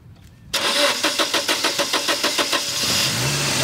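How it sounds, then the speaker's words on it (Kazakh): A car engine cranks in a rapid run of about a dozen starter pulses after a brief quiet, then catches and settles into a steady idle, loud and close. "Машина оталып кетті ғой."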